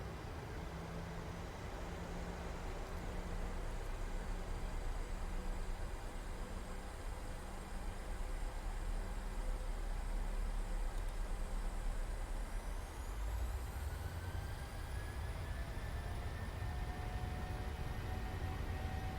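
Boeing 737 jet engines at takeoff in the PMDG flight simulator, a steady, loud broadband roar that spools up with a rising whine partway through, with no talk.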